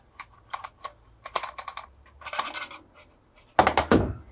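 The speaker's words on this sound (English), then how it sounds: "There's a little ball bearing here that hits on these flats just to make that satisfying click." A small ball bearing clicking against the flats of an MTM PF22 foam lance valve as it turns: several quick, crisp clicks in short bursts, close by, ending with a louder rattling clatter.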